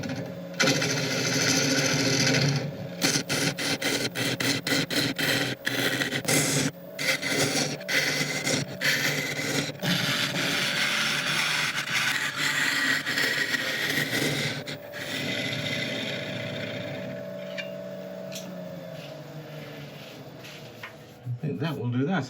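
A wood burl spins on a lathe while being sanded, giving a dense, rough, continuous rasping whir close by. The sound breaks off in short gaps, and a person talks over part of it.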